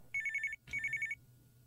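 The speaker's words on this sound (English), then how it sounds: "Answer the phone, Kevin." A telephone rings in two short electronic trilling bursts separated by a brief gap, clear and fairly close, with quiet room hum and no talk.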